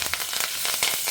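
Mustard seeds and curry leaves splutter in hot coconut oil, a close, dense crackling sizzle with quick irregular pops throughout.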